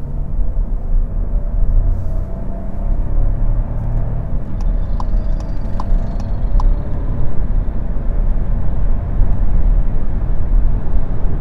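A Skoda Fabia with a three-cylinder engine accelerates. A low, steady engine and road rumble fills the cabin, with a few faint ticks on top, and no one speaks.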